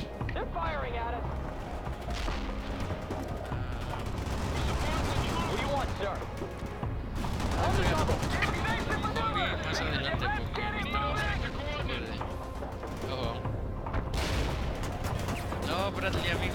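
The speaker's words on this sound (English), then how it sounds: "They're firing at us!" Heavy gunfire in a video game battle against Russian forces, sustained bursts and booming shots running dense and loud throughout, with shouting voices mixed in over the din.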